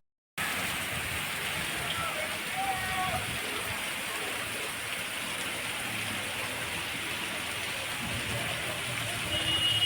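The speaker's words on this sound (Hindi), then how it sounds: "दक्षिण गुजरात के सूरत में भी कल से भारी बरसात हो रही है" Heavy rain pours down in Surat, a dense, steady hiss of falling water and splashing drops that begins abruptly and holds at an even level.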